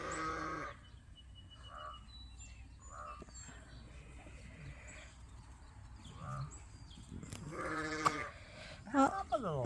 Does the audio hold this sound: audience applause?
no